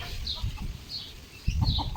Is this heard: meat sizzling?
no